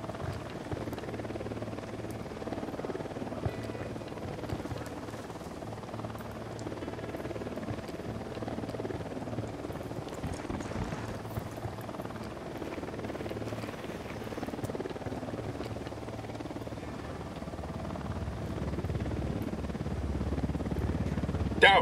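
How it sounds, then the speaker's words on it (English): Unidad helicopter in Ghost Recon Wildlands, a steady low rotor drone and engine rumble holding across the whole stretch, moderately loud with game ambience and swelling slightly near the end. "Unidad chopper, stay low."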